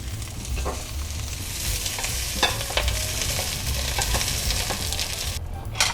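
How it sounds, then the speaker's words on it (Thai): Vegetables are stir-fried in a wok, producing a steady close sizzle with repeated metallic clatters and scrapes of the utensil, the hiss briefly dropping out near the end. "แล้วก็ผัดผักให้สุกๆนะครับ"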